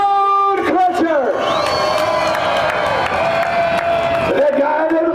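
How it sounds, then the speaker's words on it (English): A monster truck show crowd in Charlotte, North Carolina cheers loudly in a trackside cheer-off, a sustained roar of shouting and whistling with an announcer's amplified voice and a siren-like tone over the top. "we go down trackside for the cheer off. Who wants Steven Sams and Stone Crusher?"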